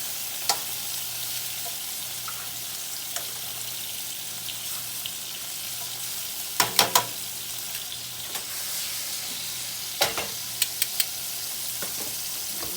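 A steak fries in a pan with a continuous soft sizzle, broken by a few sharp crackles and pops, and no one speaks.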